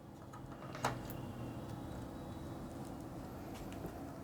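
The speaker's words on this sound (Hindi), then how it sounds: "तो चलिए प्रिंटर को ऑन करते हैं" An HP LaserJet printer switches on and initializes with a steady low mechanical hum and whir, one sharp click near the start and faint ticks later, close and quiet.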